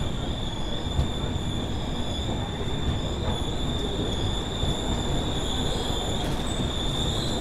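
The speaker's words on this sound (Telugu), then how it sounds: "మన ట్రైన్ వచ్చేసి దాదాపు 45 నిమిషాలు లేట్గా అయితే వచ్చింది మనకు పిగిలేరుకి" Seven Hills SF Express train arriving late at Pigileru station in Rayalaseema, a loud, steady rumble of rolling wheels with high metallic squeals ringing over it, heard close throughout with no talking.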